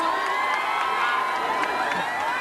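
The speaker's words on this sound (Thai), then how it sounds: "พี่น้องครับปรบมือ ดังๆครับ" A large outdoor crowd at a Thai rally welcoming the prime minister cheers and shouts steadily, a dense continuous roar with scattered whoops and no clear break.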